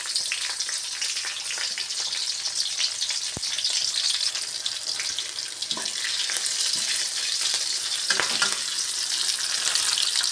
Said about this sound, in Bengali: তার জন্য আমি লঙ্কা সম্বারা দিলাম, আর কালো জিরে দিয়ে দিলাম।